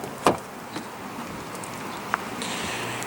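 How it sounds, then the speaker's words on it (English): Power side mirrors on a 2016 Lexus GS350 F-Sport fold in as the car locks, a quiet electric whir after a sharp click, with a couple of faint taps and a soft motor hum at the end. "When you lock the vehicle, the mirrors will fold in."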